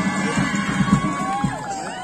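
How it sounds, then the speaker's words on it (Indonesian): Crowd of spectators at a local amateur football match in Sukabumi cheering and shouting continuously, with bursts of clapping, as players are announced onto the pitch. "Tepuk tangan."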